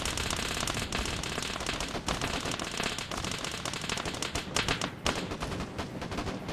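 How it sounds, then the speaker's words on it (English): An Mi-24 helicopter gunship fires its guns in a video game battle: loud, dense, rapid automatic gunfire rattles almost continuously, with brief dips between bursts. "we also have the Mi-24 coming in now. I think it's going to end up dumping all of its ammo into this."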